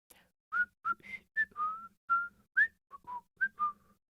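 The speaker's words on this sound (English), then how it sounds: "whistling softly in his accustomed fashion" Soft, melodic whistling of a short tune by a boy, about a dozen brief rising and sliding notes in quick succession, close and quiet with no talk.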